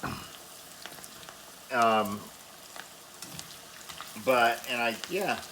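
Potato pieces cut as short steak fries frying in coconut oil, a steady low sizzle running throughout with a couple of short bursts of speech over it.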